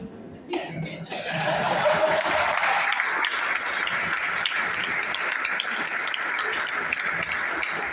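A seated audience at a hotel hall event in Lonavala breaks into loud, sustained applause after a brief quiet start, the dense clapping holding steady to the end.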